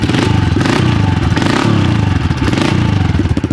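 A pit bike engine runs hard close by while being ridden, a loud, steady, buzzy drone with rapid rhythmic pulsing and some mechanical clatter throughout, with no talking.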